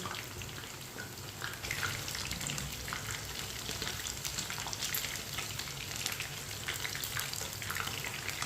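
Chicken pieces fry in a pan with a steady, crackling sizzle that swells slightly after the first second and stays even and close, without voices.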